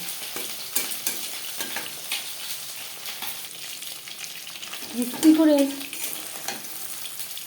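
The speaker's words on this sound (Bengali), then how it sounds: "একটা সাইড ভাজা হয়ে গেলে অপর সাইডটা উল্টে দেবে" Chicken pakoras fry in hot oil, turned over partway, giving a steady low sizzle with a louder burst of bubbling near the end as pieces are flipped or stirred; brief speech is heard.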